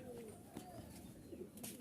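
Rajshahi Giribaj pigeons, a male and female pair, coo faintly in a loft, giving a few low, soft burbling coos over a quiet background.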